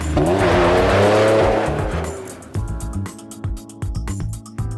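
A car with a freshly installed Hypertech Max Energy Power Programmer 2.0 engine tune roars loudly and accelerates, its revving engine rising in pitch, then settles into a steadier drive with intermittent bumps and louder bursts.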